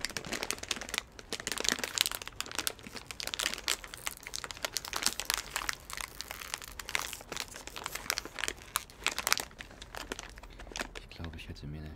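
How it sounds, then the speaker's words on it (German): Close crinkling and tearing of a plastic bag of nuts, with sharp rips and crackles coming in bursts over several seconds. "ich mache jetzt die Tüte auf"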